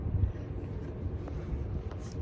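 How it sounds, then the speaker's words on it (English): Steady low wind rumble buffeting the microphone, continuous for a couple of seconds with no talking. "it's getting windy"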